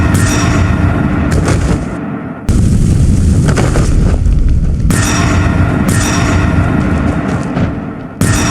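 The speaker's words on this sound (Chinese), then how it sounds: "这段流星坠火是真的帅，直接把我兄弟的骨灰都轰成渣了" A meteor fire skill in the combat game Where Winds Meet unleashes loud, continuous blasting roars and booms, with heavy explosive bursts cutting in and out abruptly in a relentless barrage.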